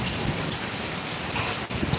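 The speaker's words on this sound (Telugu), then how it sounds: "పెద్ద పెద్ద రాళ్ళు పడుతున్నాయి" Heavy rain mixed with large hailstones pours down in Chittoor, a dense, continuous hiss with scattered impacts, loud and close, and no talk.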